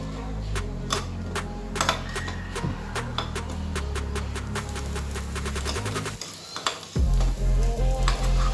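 Appe fry in a little oil in an appe pan, making a steady sizzle with a run of quick tapping clicks as they are turned. A deep hum runs underneath, and a short clunk and pause come near the end.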